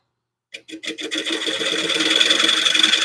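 Lathe tool cutting into a turned wooden plate, starting after a brief silence with a few rhythmic scraping bursts that build into a steady, continuous rasping hiss close by.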